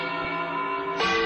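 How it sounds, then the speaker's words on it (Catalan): Church bells peal to announce the San Vicente Ferrer festival, a sustained ringing of overlapping tones that swells slightly near the end of this brief moment. "En acabar volteig de campanes per anunciar la festa."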